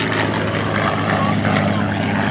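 A P-51 Mustang flies at an airshow, a loud steady propeller engine drone that fills the whole stretch while an announcer talks over it.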